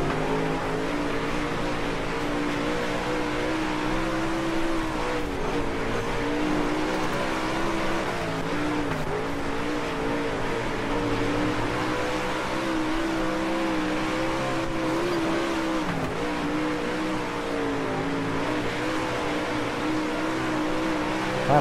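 A race car engine in the World of Outlaws racing video game drones steadily throughout, its pitch rising and falling as the car accelerates and turns, with no talking over it.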